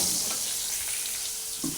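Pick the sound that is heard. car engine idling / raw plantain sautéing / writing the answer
raw plantain sautéing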